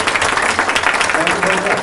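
Applause from an audience at a National Quilting Day kickoff event, welcoming Jim Cargill and Bob Kraft; a steady, fairly loud wash of clapping with some voices mixed in.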